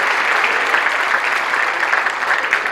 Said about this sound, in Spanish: un aplauso a Alianza País